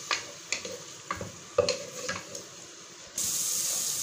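Masala frying in a pan on a low flame, with a faint sizzle and several spatula scrapes and knocks. Near the end a steady rushing hiss takes over, and no one speaks.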